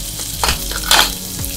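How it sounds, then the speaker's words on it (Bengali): Onion, garlic and green chili fry in hot oil with a steady close sizzle, broken by a couple of louder bursts of crackle as the pan is stirred; no one speaks. "পেঁয়াজ আর রসুন কাঁচা মরিচটা তেলে একটু ভেজে নিলাম"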